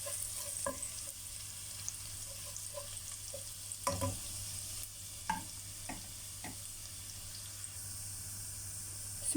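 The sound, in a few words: garlic frying in a pan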